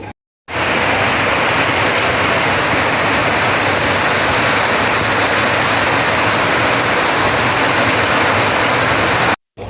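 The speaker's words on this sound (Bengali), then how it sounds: "বৃষ্টির সাউন্ড শুনতে কিন্তু বেশ ভালোই লাগে" Heavy rain pours in a dense, steady roar with no breaks, loud and close, for nearly ten seconds, beginning and ending abruptly.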